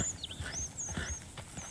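A wild horse in Red Dead Redemption 2 after being caught with a lasso: a few soft hoof clops and a high whinny-like call, close and clear with light game ambience.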